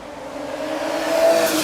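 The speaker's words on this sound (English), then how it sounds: "A Tesla was racing a sports car and won." A Tesla racing a sports car, heard as a steady, loud engine and road roar with a rising whine that swells toward the end, carrying on continuously without any talk.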